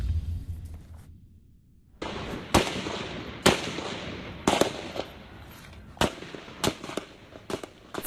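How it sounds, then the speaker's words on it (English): Sharp gunshots crack out one after another at irregular intervals, loud and close, with echoing tails between them. "You heard that gunfire after a gunman opens fire"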